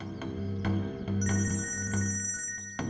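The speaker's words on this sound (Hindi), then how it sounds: "आपका फोन बज रहा है।" A telephone rings in repeated electronic trills with short pauses between them, loud and close, with no one speaking.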